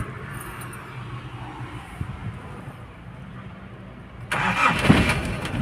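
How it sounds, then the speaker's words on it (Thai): A Nissan Big-M pickup truck engine cranks and catches after a quiet few seconds, then runs loudly close by, idling with a rough rumble. "มาลองสตาร์ทฟังเสียงสักหน่อยนะ"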